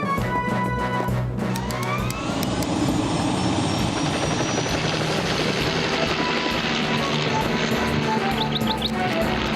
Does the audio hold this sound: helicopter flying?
yes